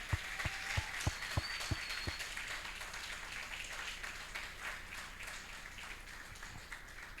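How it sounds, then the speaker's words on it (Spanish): Congregation applause in a church service, rhythmic claps near the start thinning into a sustained wash of clapping and cheering at moderate level, with a faint voice heard briefly. "Dale un fuerte aplauso al Señor"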